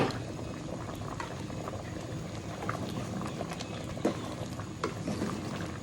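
Thai soup with a little salt simmers in a pot, a continuous close bubbling and popping at an even, moderate level with scattered louder pops.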